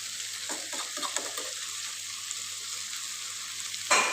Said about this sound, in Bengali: তাহলে লাল লাল করে ভাজি করব, মানে বড়া বড়া বানানোর সিস্টেমই আর কি।